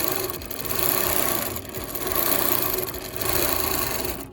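Longarm quilting machine running with its top thread tension tightened a lot, a steady mechanical whir and rapid stitching patter that swells and eases in a few long passes, close and fairly loud with no talk.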